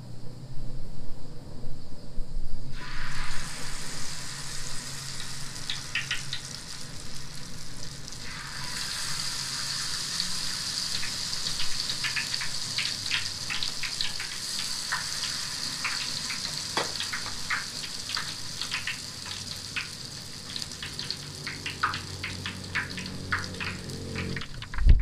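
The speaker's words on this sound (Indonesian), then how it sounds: "Selanjutnya kita akan menggoreng." Batter for banana tree trunk chips fries in hot oil with a steady, fizzing sizzle, punctuated by crackling pops as pieces are dropped in, after a short run of quieter kitchen sounds.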